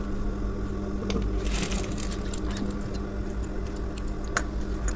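A sewing machine stitches a shirt collar in a steady low hum with faint clicks and light rattles, close and moderately quiet, with no talk.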